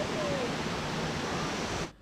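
Pha Taek waterfall in Khao Laem National Park, a steady, dense rush of falling water filling the scene at close range, then cutting off at the very end.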